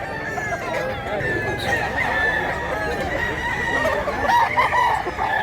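Roosters crow repeatedly among clucking chickens kept for sale at a market, loud and close, with overlapping calls and some background voices.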